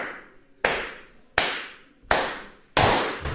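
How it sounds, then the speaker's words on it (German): A group of people clap together in unison, four sharp, loud claps evenly spaced about two-thirds of a second apart, each with a short room decay, as a sync marker while recording a German board-game podcast episode. "auf den fünften klatschen wir alle, damit der Ton synchron ja."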